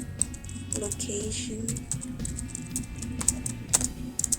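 Clicky computer keyboard typing close by, with scattered keystrokes and short bursts under someone talking.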